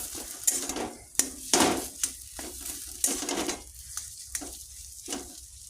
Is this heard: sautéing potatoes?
yes